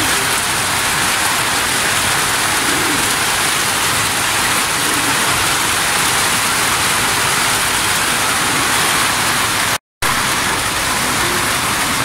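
Heavy rain pours down in a steady, dense, loud hiss of countless drops. No voices are heard, and the sound cuts out once in a brief dropout near the end.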